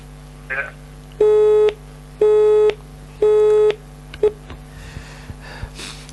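A telephone busy tone sounds after a caller's line drops during a call-in program: three loud, steady beeps in an even rhythm, each about half a second, preceded by a brief voice and followed by faint background noise.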